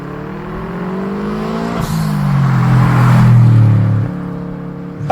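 A Subaru WRX STi Bug Eye with an EJ207 engine revs up, its note climbing and swelling to a loud peak before easing off, then catching again with a sharp blip at the end.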